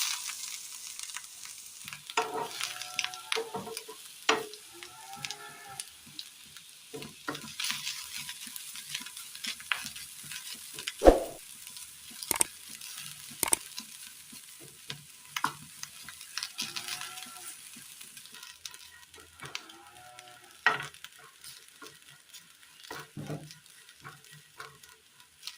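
Grated coconut fries in coconut oil in a pan on the stove, with a soft, steady sizzle broken by repeated scraping stirring strokes and occasional sharper clinks, close and fairly quiet.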